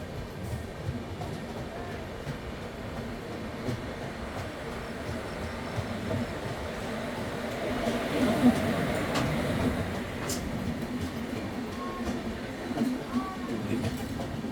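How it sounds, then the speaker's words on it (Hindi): The 22512 Kamakhya–Mumbai LTT Karmabhoomi Express pulls into Rampurhat station with a steady, low rumble and soft clatter of wheels, heard from inside the train with faint, indistinct voices around. "तो हमारी ट्रेन रामपुर हाट पहुंची है बिफोर टाइम"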